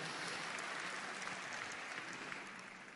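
Applause from a church congregation fills the space as a steady, dense wash of clapping, moderately loud and continuous, easing slightly toward the end with no voices over it.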